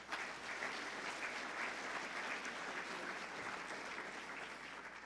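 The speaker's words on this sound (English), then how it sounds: "let's give her a big round of applause" Sustained applause from an audience at a donor recognition dinner, honoring a departing staff member; steady dense clapping fills the whole stretch at moderate distance, with no voices standing out.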